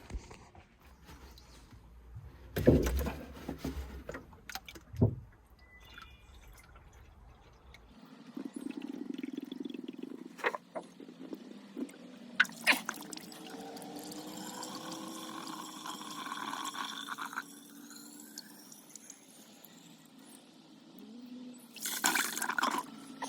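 Water poured from a jug into a spring pipe outdoors, a steady trickling and gurgling pour that starts after a few knocks and clunks and runs for several seconds, fairly close and moderate in loudness.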